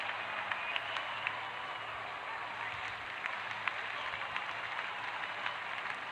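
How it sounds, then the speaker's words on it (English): Crowd in a cricket mobile video game, a steady wash of cheering and applause with scattered claps, continuous and even throughout. "Crowd is going crazy."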